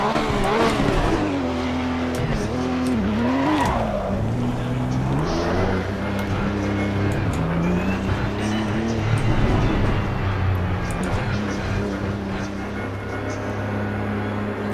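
Race car engine in the Automobilista 2 VR racing sim revving and shifting continuously, rising and falling pitch with turbo whine and occasional tire noise, loud and steady throughout.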